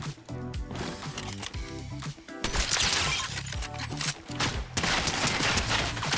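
Fortnite Chapter 5 sky turret firing from above, a dense, loud, continuous barrage of rapid shots and impacts layered over game sound, with no talking.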